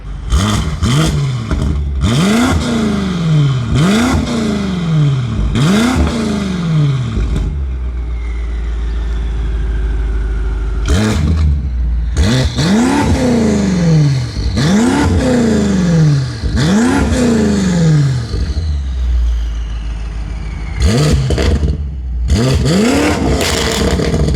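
A BMW F90 M5 Competition fitted with front mount intakes, set in Sport Plus, is revved hard again and again: about eight loud, close throttle blips, each rising and falling, with a short idle pause midway and no talking.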